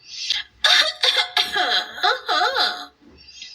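A person gives a series of forced, theatrical coughs and throat noises, loud and close, in quick bursts lasting a few seconds.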